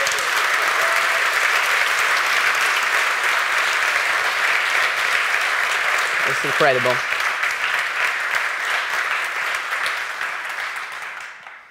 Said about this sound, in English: can you give him a nice round of applause?